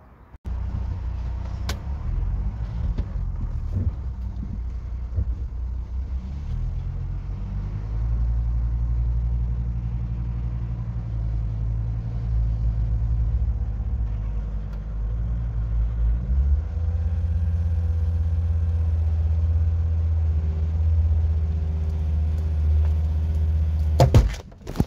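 A Volvo car's engine holds a low, steady rumble close by while it strains to pull a holly stump out on a doubled-up rope, with the note shifting slightly partway through and a brief clatter at the end.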